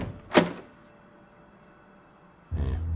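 In the Tesla Effect Tex Murphy adventure game, a locked door is tried: a single short rattling thunk near the start, then quiet, followed by a low rumbling movement sound at the end.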